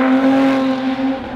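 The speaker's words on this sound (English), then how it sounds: "it's got more of an Evora 400 exhaust, so it sounds completely different to the 350" A supercar engine revving hard through an Evora 400-style exhaust, a loud, close, steady drone with a strong tone that holds and eases off slightly near the end, no talk over it.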